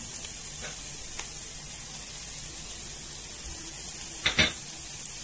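Peppers frying with softened onions in a pan, a steady soft sizzle throughout with a couple of brief utensil clinks and a stir near the end, no talking.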